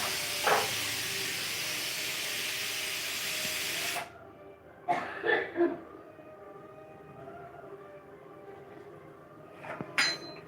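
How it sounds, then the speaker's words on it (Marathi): A pressure cooker on a home stove releases a loud, steady hiss of steam for about four seconds, then stops abruptly. Short bursts of hissing and clattering follow, and a brief sharp spurt comes near the end. "कुकरला लावल्या शिट्ट्या"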